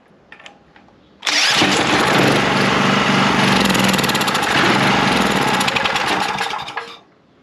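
A small petrol engine sputters and fires after watery fuel has been drained from it, starting abruptly and running loud and rough for several seconds before cutting out, with no talk over it.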